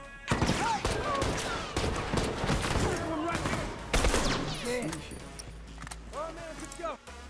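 Rapid bursts of video game gunfire crackle throughout a 4v4 tournament match, overlapping with someone talking excitedly over the action.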